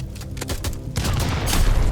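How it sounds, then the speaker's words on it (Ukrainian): Gunfire in a SpongeBob video game, with rapid bursts of cartoonish shots that grow denser and louder after the first second, alone without talk. "я можу ще по ньому якби просто стріляти"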